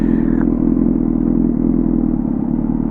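Motorcycle engine running steadily and loud up close, a continuous low rumble with no voices over it.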